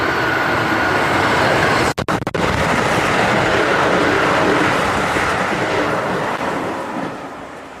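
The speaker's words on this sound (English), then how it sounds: "full raw clip of the train passing by" A train roars past close by near a station outside Tokyo, a loud, sustained rumble and rattle of rail cars lasting several seconds, with a brief dropout partway through before it slowly fades away.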